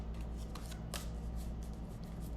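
Cannabis oracle cards being shuffled by hand, a quick run of close, crisp riffling flutters and slaps, alone and without talk.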